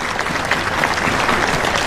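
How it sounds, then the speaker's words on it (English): Tennis crowd at a Pattaya women's tournament breaking into dense, sustained applause, many hands clapping at once, loud and close with no pauses. "give a round of applause clapping, to Ajla Tomljanovic again on the stand"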